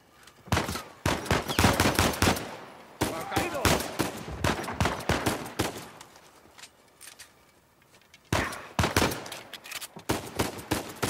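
Gunfire in the video game Uncharted 4 comes in dense, loud bursts of rapid shots, pausing briefly and then resuming, with a final volley near the end.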